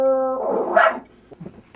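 A person imitates a dog with a single voiced bark-like yelp after a sustained tone, then a few faint softer sounds trail off.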